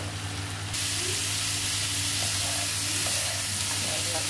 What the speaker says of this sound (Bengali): শুকনো মরিচ গুঁড়া, অল্প হলুদের গুঁড়া দিয়ে দেব, নাড়তে থাকবো